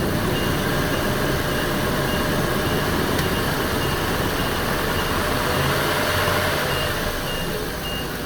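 A Chevrolet 8.1 Vortec engine in a Workhorse chassis, being tested for a restricted catalytic converter, idles with a steady, loud drone and a slight rise as gas is added, alone without talk.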